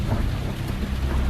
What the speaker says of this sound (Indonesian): ketika itu Bandung sedang turun hujan deras